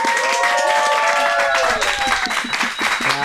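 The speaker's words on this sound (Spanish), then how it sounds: "un aplauso para Romel Naranjo" A studio audience applauds for a guest on a Spanish-language talk show, the clapping steady and dense beneath sustained musical tones, with a voice briefly coming through near the end.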